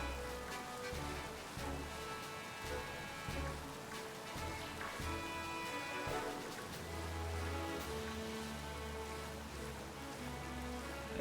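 Steady rain ambience from a Pokémon video game, a continuous wash of falling drops with dense game music and tones layered over it, no talking.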